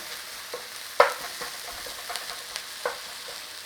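Leeks with a pinch of thyme fry in a pan over a moderate flame, a steady close sizzle broken by occasional scrapes and clicks as they are stirred and kept moving.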